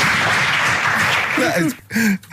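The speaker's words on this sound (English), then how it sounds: "Big hand of applause." Applause from a small studio audience, a steady wash of clapping running for about two seconds before voices cut in near the end.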